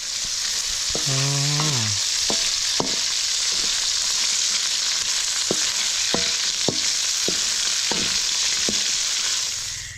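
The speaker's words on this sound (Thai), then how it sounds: "อันนี้ก็ทอดไข่ด้วยนะครับ" Eggs frying in a pan outdoors with a steady loud sizzle of hot oil, broken by sharp clicks and scrapes of a utensil against the pan and a short squeak early on.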